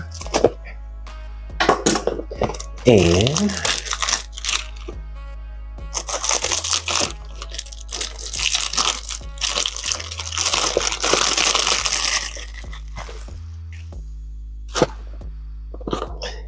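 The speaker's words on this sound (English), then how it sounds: "Cut the paper" Paper wrapping on a Voux Zingy fragrance package is cut and torn open, giving bursts of crinkling, crackling paper close up, with a few sharp snips and pauses between them.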